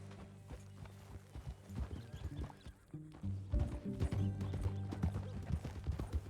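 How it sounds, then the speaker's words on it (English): Horse hooves clip-clop on the ground in the Red Dead Redemption 2 video game, a quick uneven run of close hoof strikes with a brief whinny and soft ambient noise around them. "That a new horse?"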